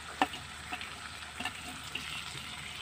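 Ginger, garlic, turmeric and pepper are stirred in a pan with a soft, faint sizzle, punctuated by a few quick metallic scrapes and taps of the spoon against the pan, near and quiet.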